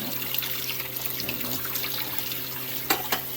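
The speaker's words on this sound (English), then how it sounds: "All right, get that rinsed off." Tap water runs steadily into a sink while shredded potatoes are rinsed, a continuous close splashing hiss with a couple of brief louder splashes near the end.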